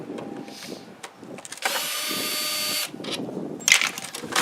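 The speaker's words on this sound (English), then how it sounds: "So you pull those out with your handy dandy drill." A cordless drill backs screws out of the lid of a 9x9 plastic catch basin, giving one sustained whirring burst of over a second amid handling clatter and a short plastic clunk.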